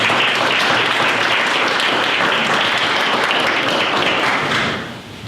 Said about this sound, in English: So everyone give those 2 a round of applause.